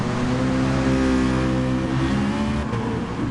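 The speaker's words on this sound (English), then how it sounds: "Fubuki's revving that car out quite a lot as well." A McLaren race car engine revs hard in a racing video game, a close, steady high-pitched drone that holds its pitch for several seconds, then dips briefly near the end, with no talking.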